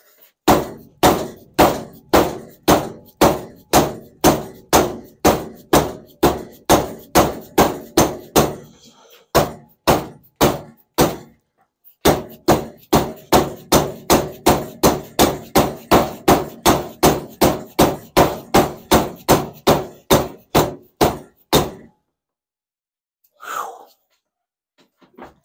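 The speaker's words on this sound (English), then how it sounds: "Thank God for dead blow hammers." Dead blow hammer pounding a vintage SK ratchet in rapid, evenly spaced sharp blows, one long run, a brief pause, then a second run, and a lone knock at the end.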